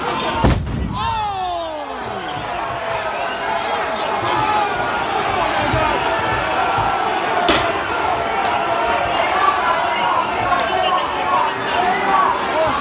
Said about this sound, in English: But what was that explosion just then?